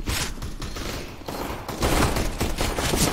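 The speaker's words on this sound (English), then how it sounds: "Oh, they're shooting each other." Rapid bursts of gunfire from a round of Counter-Strike: Global Offensive crackle loudly and densely, overlapping shots filling the short stretch with no talk.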